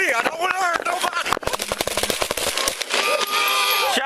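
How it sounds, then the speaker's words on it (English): Gunshots from police, captured on a body camera, crack out in a rapid burst of sharp loud reports, with shouting voices around them. "Shots fired."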